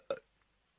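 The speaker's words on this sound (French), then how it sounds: "Il a fait un rot." A single short, loud burp from a person on a phone call, heard alone and close with a brief quiet tail after it.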